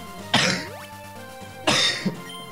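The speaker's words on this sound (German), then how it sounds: "Aber der Husten kommt immer so plötzlich unerwartet." Two harsh, sudden coughs from a person nearby, each a loud burst followed by a short raspy tail, separated by about a second of quiet room tone.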